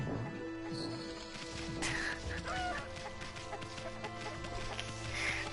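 A chicken in the video game Okami HD clucks in short bursts over game music and ambience, the clucks moderately close and scattered.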